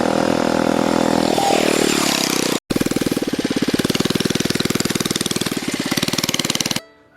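A roughly 10-horsepower small engine fitted to a Ford F-150 Power Wheels ride-on toy chugs loudly and steadily, its pitch sliding down before a brief cutout, then resuming a rapid, rough putter until it stops.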